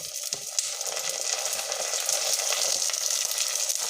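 Onions, curry leaves and green chili sizzling in hot oil in a pan for a fish curry, a constant crackling fry with light stirring scrapes, close and steady with no talk.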